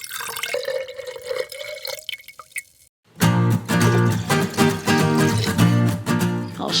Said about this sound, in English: I'm going to add 2 cups of water into the jar and 1 cup of vinegar.